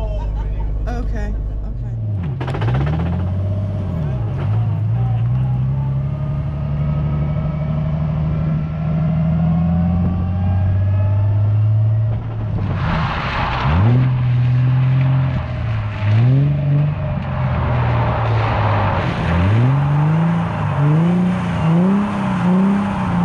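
A car's engine revs repeatedly during a drift lesson at a Texas drift academy, loud and close, with rising and falling pitch sweeps and tire noise while an instructor talks over it.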